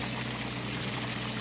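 Natural spring water flowing freely by a rural roadside, a steady broadband rush and splash of water running continuously and fairly close.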